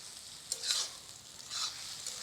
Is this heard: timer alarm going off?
no